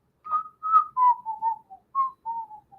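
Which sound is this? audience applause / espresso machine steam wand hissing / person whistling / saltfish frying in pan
person whistling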